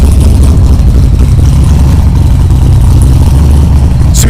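A big-cam LS-swapped car or truck engine idles loudly close by in a performance shop, a deep, lumpy rumble steady throughout with a brief hiss near the end.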